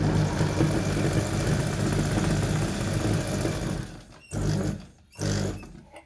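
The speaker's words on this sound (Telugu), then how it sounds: "ఇలా ఒక క్లాత్ తీసుకొని ఇలా కుట్టి చూపిస్తాను" A zigzag sewing machine stitches through cloth with a fast, even mechanical whir for about four seconds, then pauses and gives two short running bursts, heard up close with no talking.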